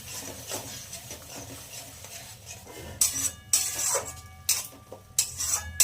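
Food scraped and stirred in a pan while making a spicy tangra fish curry with tomato paste, mustard and poppy seed paste; soft scraping at first, then louder bursts of clattering utensil strokes against the pan.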